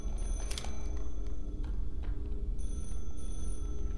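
A telephone bell rings inside a horror video game, a bright repeated electronic ring heard over a low droning ambient hum, with no voices.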